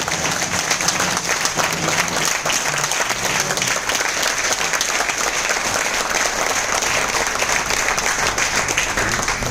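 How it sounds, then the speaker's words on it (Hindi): Loud, steady applause from an auditorium audience fills the whole stretch, dense and continuous with no breaks. "जोरदार वाली ताली।"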